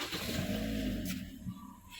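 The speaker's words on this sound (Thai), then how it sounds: "เหยียบเบรกแล้วก็กดปุ่มสตาร์ทได้เลยนะคะ" Toyota Altis 1.6G 2018 sedan started by push button, the engine catching with a brief crank and settling into a steady low rumble, close and fairly loud, with no one speaking.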